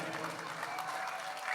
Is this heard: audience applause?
yes